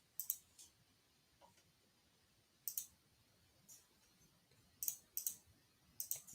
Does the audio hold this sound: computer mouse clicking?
yes